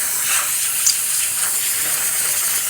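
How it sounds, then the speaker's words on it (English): Powerful steam jet from the steam wand of a Pasquini espresso machine, a steady, loud, continuous hiss that holds even throughout with no talking. "Steam for this machine, very strong, excellent steam coming out through the one"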